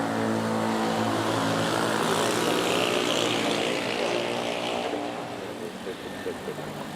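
An airliner at Manila airport roars down the runway on takeoff, loud and steady before easing away toward the end, with a voice heard over it.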